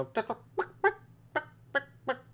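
A series of short, sharp clucks repeat at an uneven pace, like a hen, distinct and close over a low steady hum.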